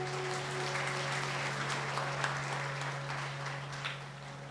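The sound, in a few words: applause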